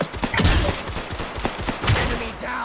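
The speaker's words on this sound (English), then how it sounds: "Mine is when I was shooting it with the pistol." Pistol gunfire in the online shooter game Off The Grid, a rapid string of sharp shots and impacts with a brief voice underneath.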